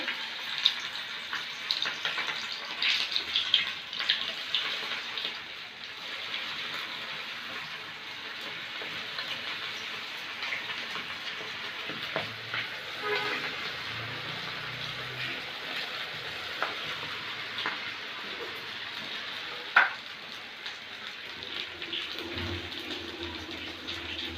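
Chicken pieces frying in hot oil give off a steady, fairly quiet sizzle with a continuous hiss and occasional small pops, and nobody talks over it.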